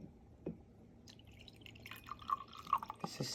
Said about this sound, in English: And now I'm going to add 2 ounces of rose water.